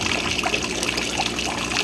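Water trickles steadily out of a venturi pipe into a tilapia tank, a continuous close splashing hiss with no pauses.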